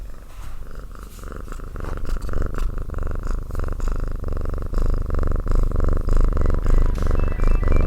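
Kitten purring close up, a steady, rumbling purr that runs continuously and grows slightly louder, with no talking over it.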